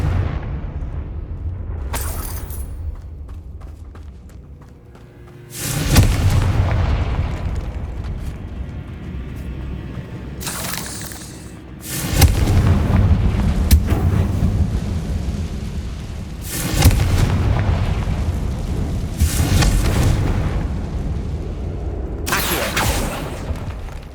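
Confringo fire spell explosions from the Hogwarts Legacy video game, several loud booming blasts spaced a few seconds apart, each with a rumbling tail over a steady low background.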